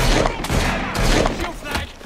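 Gunfire volley in Assassin's Creed Syndicate, a dense burst of overlapping shots and clatter over roughly two seconds, close and loud, with shouting voices mixed in.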